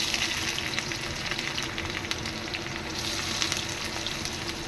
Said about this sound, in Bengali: কড়া গরম হয়ে গিয়েছে তেলও গরম হয়ে গিয়েছে এবার পেঁয়াজগুলো দিয়ে দেবো